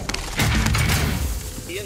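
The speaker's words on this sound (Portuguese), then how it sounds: "granada!" A grenade blast in a Call of Duty Fortune's Keep match lands as a loud, booming burst with a rumbling tail of gunfire-like crackle, preceded by a few short clicks.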